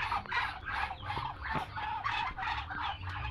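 A brooding Muscovy duck hen gives a steady series of breathy, hissing bursts, about eight in quick rhythm, close and fairly quiet with no talk.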